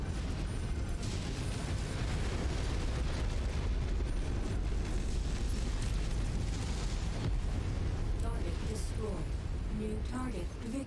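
A giant mech blowing apart in the MechWarrior 5 video game, a dense, loud, sustained roar of explosion and rumbling debris that fills the whole stretch, with brief tonal game sounds near the end.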